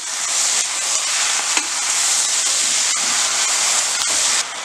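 Seven or eight chopped tomatoes are mixed and fried in a pan for Mumbai street-style pav bhaji, a loud, dense, continuous sizzle with faint stirring scrapes, close up and without talk.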